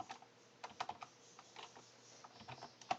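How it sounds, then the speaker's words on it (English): Quick, light keyboard clicks tap out a short command in uneven bursts, close and soft against a faint background hum. "So, we type /time"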